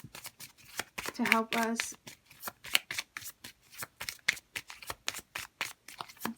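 Tarot cards are shuffled up close in quick riffling bursts and repeated sharp flicks and slaps, with a voice speaking briefly over the sound.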